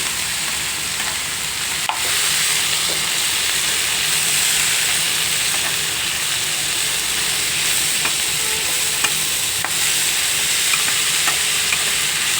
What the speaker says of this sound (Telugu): అలాగే కారం వేసి వేయించుకోవాలి బాగా